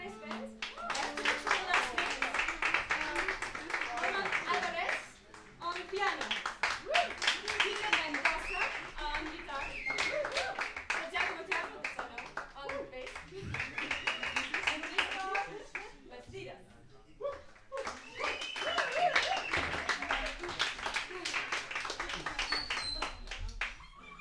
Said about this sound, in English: A big applause for this super nice band.